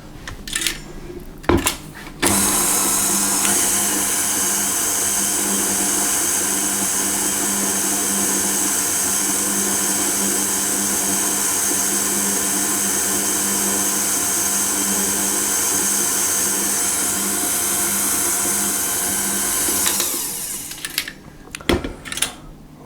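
An electric mixer whirring through a chocolate and cherry cheesecake mixture, a loud steady buzzing drone lasting about eighteen seconds, with brief clunks of handling before it starts and after it stops, close and without talk.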